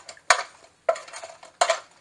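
Air-fried chicken cartilage is tossed in the metal air fryer basket, producing three sharp clattering bursts of pieces rattling against metal, separated by brief pauses.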